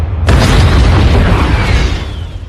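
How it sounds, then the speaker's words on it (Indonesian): A landmine explodes in the 2021 action film Nobody with a loud, deep boom that hits suddenly and then rumbles and slowly fades out. "meledakkan ranjaunya tepat di bebenguk si Yuli hingga membuatnya tewas"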